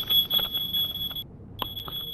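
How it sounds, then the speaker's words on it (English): A home smoke alarm shrieks with a steady high-pitched tone that cuts out briefly and then resumes, heard over a muffled gaming headset mix with faint background noise. "Is your fire alarm going off?"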